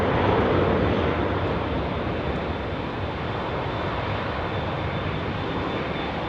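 China Airlines cargo jumbo jet landing at Heathrow, a steady loud roar of engines that holds evenly throughout with no voices.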